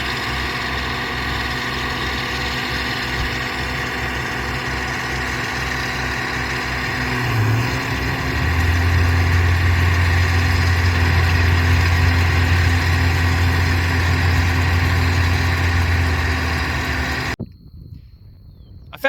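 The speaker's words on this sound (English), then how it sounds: "Got a belt squealing, I hear." Idling rye harvesting machine with a squealing belt, a steady rumbling engine drone with a thin sustained whine over it, loud and close, cutting off abruptly near the end.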